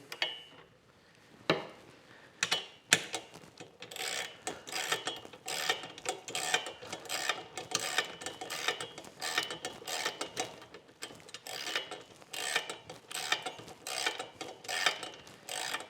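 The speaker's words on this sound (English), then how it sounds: "And I'll do the same thing with the front bolt here. So that'll tighten." Ratcheting clicks and metallic turning as a bolt is tightened during assembly of a Louisville Slugger Black Flame pitching machine, with a steady stream of close mechanical clatter and a few sharper knocks, no talking.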